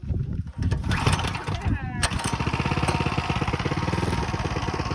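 A Coleman CT100U gas mini bike engine, pull-started, sputters into life and settles into a steady, close running putter, with a voice talking over it early on.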